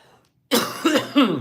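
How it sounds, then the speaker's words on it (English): A quick series of three dry, tickly coughs close to the microphone after a moment of near silence. "The worst part is this tickle cough."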